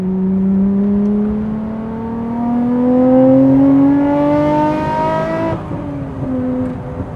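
Nissan R34 GT-R six-cylinder engine revving hard: a loud, close, smooth howl climbing steadily in pitch for several seconds, then cutting back abruptly and settling to a lower idle.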